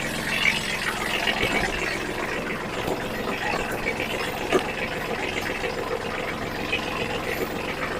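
A sugarcane farming tractor's engine runs at a steady idle-like drone, mid-pitched and continuous, while the steering is turned to the other side; faint mechanical knocks come through, with no talk.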